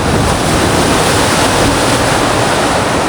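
Sea waves breaking beside a seaside restaurant wash in a steady, loud, close roar of broadband surf with no pauses, alone without voices.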